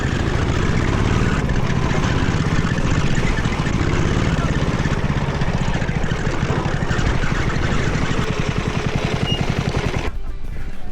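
Racing lawnmower at a BLMRA race at West Woods, engine running hard and steady with a spinning, whirring clutch noise over it, loud and close, then briefly cutting out near the end.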